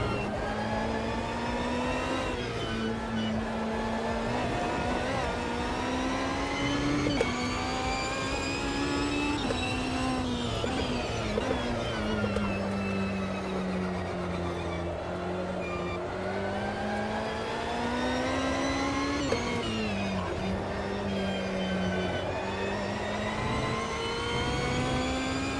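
A Ferrari historic race car engine roars steadily in Automobilista 2, rising and falling through gear changes and revs, loud and close for the whole stretch with no voices.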